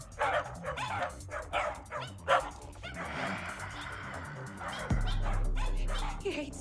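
Several dogs bark and yip excitedly in a scene from the live-action Cowboy Bebop TV series, with the barks coming in bursts among whimpers and other scene sounds, and a voice speaking partway through.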